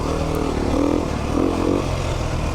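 A 2019 Beta 390 RR Race Edition dirt bike engine runs steadily at a low, rolling throttle, its mid-pitched drone swelling slightly twice and staying close and continuous throughout.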